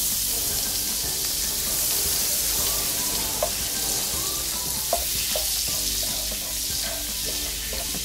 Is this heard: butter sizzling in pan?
yes